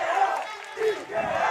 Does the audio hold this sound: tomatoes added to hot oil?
no